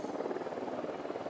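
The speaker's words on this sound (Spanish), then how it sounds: "Cuidado, un helicóptero de la unidad." A helicopter in the game Ghost Recon Wildlands, with a steady, fairly faint rotor drone and fluttering chop, continuous and without speech.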